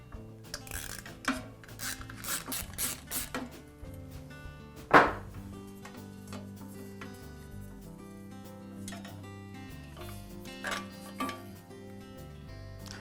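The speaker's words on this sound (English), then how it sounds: "Now remove the panel from the manifold." Panel removal on a DeWalt compressor manifold brings faint rubbing, scraping and small clicks of handled parts, with one sharper knock partway through, all quiet and close.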